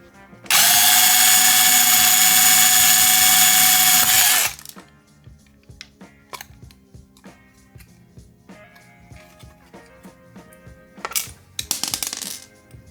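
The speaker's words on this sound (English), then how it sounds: "get a slightly wider drill bit and drill a little bit of a wider hole so this new screw can go through" An electric drill with a 9/64 bit widens a screw hole on a V-hook for a proton pack and wand, a loud steady whine lasting about four seconds, then stopping, followed by faint clicks and handling noises.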